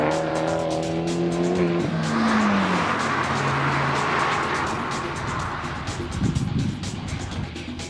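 Fiat 500 Abarth small turbocharged car being driven, its engine note rising and falling loudly and close, with tyre noise underneath and a short stretch of voice near the start.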